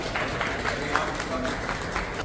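An audience claps steadily as chief guest Justice Dr. Vineet Kothari is welcomed to the stage at the Marudhara Tax Bar Association national conference, a dense, even wash of clapping lasting throughout with voices talking over it.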